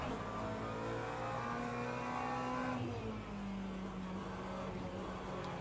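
Race car engine in an iRacing sim race, a steady, loud droning whine that drops in pitch around a gear change midway, running continuously with no talk over it.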